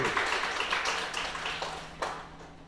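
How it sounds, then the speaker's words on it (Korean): A church congregation applauds, with a crowd of close, lively hand-claps that start strong, fade gradually, and include a few sharper individual claps near the end. "박수 한번 쳐주세요."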